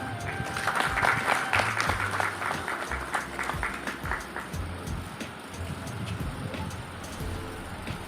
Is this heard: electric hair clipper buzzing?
no